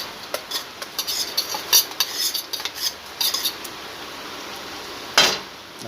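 A spoon mixes mashed boiled potato into chicken curry in a metal pot. Irregular close clinks and scrapes come in bursts, then a pause and one last sharp clank, with no voices.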